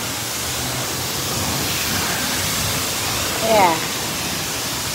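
Steady, broad hiss of pressurized water spraying at a self-service car wash in Hanover, Pennsylvania, rinsing and soaping a car, continuous and fairly close, with a brief voice near the end.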